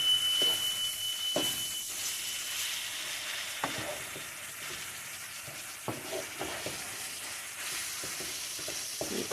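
Homemade enchiladas fry in a pan with a steady sizzle, broken by occasional scraping stirs and light utensil taps, close and continuous with no talk.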